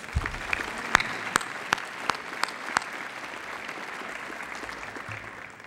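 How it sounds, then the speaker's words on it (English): An audience at a community college State of the College address applauds a faculty member, a steady wash of clapping with a few sharp, distinct claps standing out early and the sound thinning toward the end. "Please join me in giving him a round of applause"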